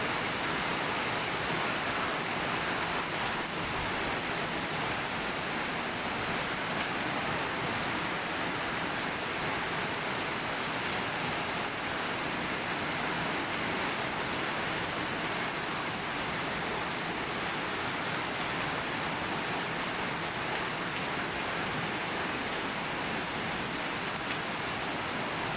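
Steady rain falls in a storm, a soft, even hiss of drops on surfaces that continues unbroken with no talk.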